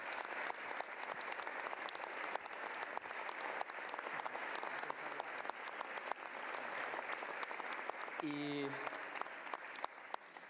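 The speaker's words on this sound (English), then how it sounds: "And so we need to give her a round of applause." A large crowd at a football club's Women's Champions League celebration parade claps and cheers in a continuous outdoor wash of applause, with a brief voice rising near the end.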